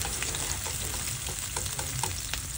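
Sliced onions fry in a pan with a dense, continuous crackling sizzle, with faint stirring clicks scattered through it and no talking.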